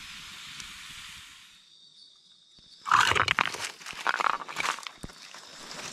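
A steady hiss of pork ribs sizzling on a hot rock at a jungle campsite fades out, then louder crackling, popping and scraping bursts follow in uneven clusters, close by.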